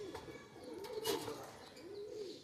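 A pair of cream-eyed pigeons gives soft, repeated low coos in gentle rising and falling swells, faint and fairly close, with no talking.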